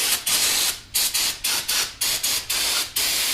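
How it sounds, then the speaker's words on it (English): Pressurized cleaning spray hissing onto an engine crankshaft during a junkyard engine rebuild, in about nine short bursts of roughly a third of a second each, close and fairly loud with brief gaps between. "I'm going to spray down my crankshaft."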